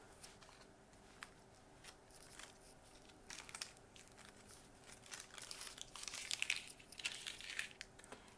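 Foil sheets for painted rock art crinkling and rustling up close, irregular crisp crackles that build and grow busier toward the end, with no talking.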